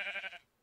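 A single short Minecraft sheep bleat, fairly loud and near, fading out quickly into quiet.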